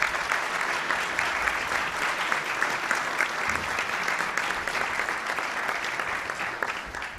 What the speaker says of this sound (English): Now you can please give them a round of applause.